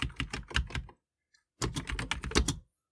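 Rapid clattering keystrokes on a Commodore 128 computer keyboard, two close, loud bursts of quick typing separated by a brief pause, with no voices.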